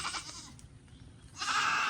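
A lone pet goat screaming, giving loud, harsh, drawn-out bleats close by with a brief quieter gap between the calls.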